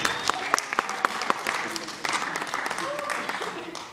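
Audience applauding between movements of a classical piece, scattered sharp claps at first that thicken into a denser patter, with people talking alongside.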